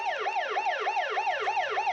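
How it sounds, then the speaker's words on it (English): A police siren sounds aboard the submarine in an episode of Voyage to the Bottom of the Sea, a loud, rapid wailing yelp repeating in even cycles, about five rises and falls, with no talk over it. "When did they install a police siren?"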